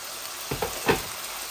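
Water is splashed into a hot pan of frying coriander, curry powder and cumin while tilapia fries, giving two short, sharp sizzling bursts close by with no talking.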